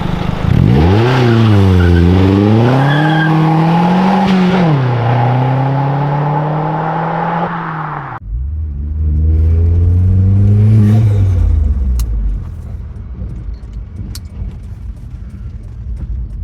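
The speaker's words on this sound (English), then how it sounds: "Can't beat turbo noises" Vauxhall Zafira GSI turbo on the road, its engine loudly revving up and down through gears with rising and falling pitch, a sharp cut at the shift, then lighter cruising with faint whistles.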